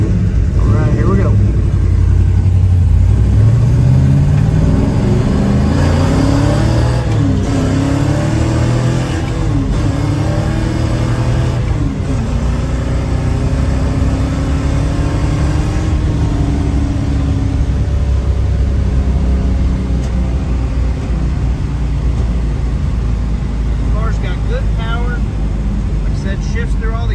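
A Chevrolet Chevelle 300 Deluxe with a 427 V8 pulls away outdoors, its engine note climbing and dropping through several gear changes before settling into a steady cruise, loud and close, with a voice talking over the run.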